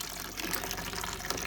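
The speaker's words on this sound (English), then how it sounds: "And now just simply in a warm water, try to wash it." Blended hair extensions are washed in warm water, with a steady splashing and sloshing of liquid close by and no talking.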